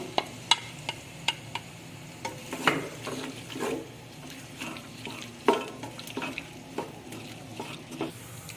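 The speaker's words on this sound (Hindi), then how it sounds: "मैं प्याज डाल दी इसमें। प्याज को ब्राउन करना है हमें।" Onions browning in hot oil in a pot for Sindhi biryani, a steady close sizzle with repeated spoon knocks and scraping as they are stirred, irregular in rhythm, with no voices.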